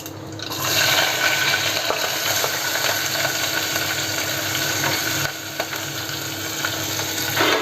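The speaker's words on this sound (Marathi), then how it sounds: "चांगला आपण हे तेलावर परतून घेऊया" Onion, green chillies and curry leaves with a pinch of asafoetida sauté in hot oil for a cabbage stir-fry, giving a loud, steady sizzle with crackles and faint scraping throughout, with no talking.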